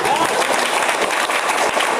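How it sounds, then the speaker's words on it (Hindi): Dense, loud audience applause fills a seminar hall, a continuous wash of many hands clapping with no break, heard alone. "एक बार जोरदार तालियां हो सकती है उनके लिए।"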